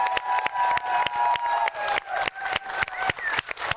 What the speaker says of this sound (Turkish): alkış rica ediyorum.